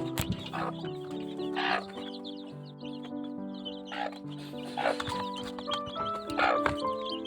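A hen clucks repeatedly while chicks peck at feed with sharp taps that come and go, over a steady humming tone.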